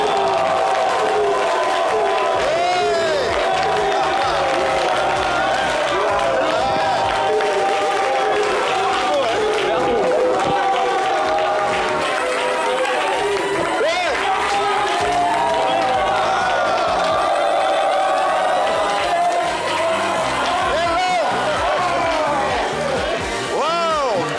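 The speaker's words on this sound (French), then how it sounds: "souhaitons tous ensemble, sous fond de musique, lumière et applaudissements, la bienvenue à Monsieur Elon, je vous prie." Audience applause and cheering with music playing at a welcome for a guest on stage, a continuous loud crowd wash mixed with melodic music, voices audible within it.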